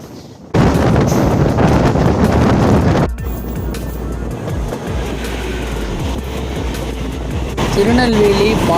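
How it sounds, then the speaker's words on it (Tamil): The Tirunelveli–Palakkad Palaruvi Express rushes past close by near Changanassery station in Kerala, a loud continuous rumble and rattle of wagons with wind buffeting the microphone, easing slightly after a few seconds as the train carries on. "திருநெல்வேலி பாலக்காடு பாலருவி எக்ஸ்பிரஸ் நம்மளை கடந்து போகுது."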